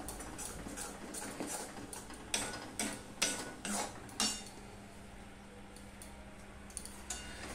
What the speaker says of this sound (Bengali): আবার অল্প অল্প দিলাম, দিয়ে আবার মিশিয়ে নিলাম।